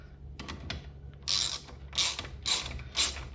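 Ratchet wrench tightening a Wilwood brake pad bolt on a 1988 Camaro Z28 in a shop, several short bursts of rapid clicking strokes at close range, growing more distinct toward the end, with no talking.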